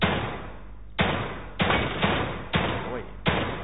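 Sharp gunshots from the video game Psycho Break ring out one at a time at uneven intervals, about six loud reports over a constant dense background of game noise.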